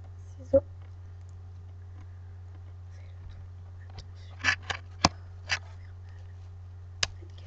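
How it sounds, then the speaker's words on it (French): Scissors snipping through fabric of an old bag being customised, a few sharp separate cuts spread across the clip over a steady low hum, close and fairly quiet. "Ciseaux."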